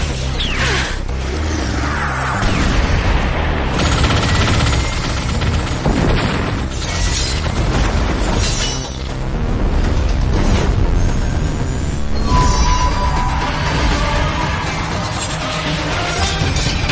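Animated fighter jets open fire in a sci-fi battle, a loud dense barrage of booming blasts, rapid gunfire bursts and whooshes filling the whole stretch without pause, with no speech over it.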